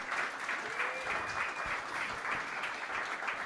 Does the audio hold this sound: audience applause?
yes